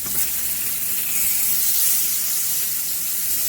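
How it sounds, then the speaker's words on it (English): Salmon fillets cooking skin-side for an ultra-crispy finish sizzle in a hot pan, giving a loud, steady, close-up hiss that runs unbroken throughout. "I like to flip them in the pan upside down"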